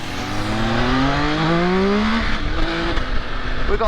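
A 2024 MV Agusta Enduro Veloce motorcycle engine revs up loudly and steadily, its pitch climbing through the rise before settling, close and alone without talk.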